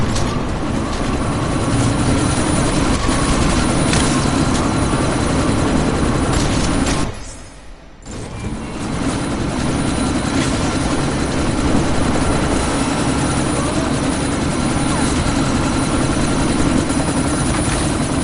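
Helicopter rotor and engine roar in the Deus Ex video game, a loud constant mechanical drone amid a sandstorm that drops out briefly for about a second, then returns at full strength.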